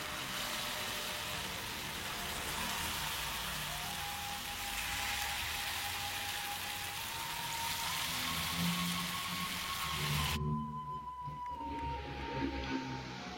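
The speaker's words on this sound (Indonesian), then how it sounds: "Lalu masukkan satu-satu ya dan digoreng." Anak inti, Minangkabau snacks, fry in hot oil with a dense, steady hiss that runs unbroken for about ten seconds before cutting to a quieter bubbling.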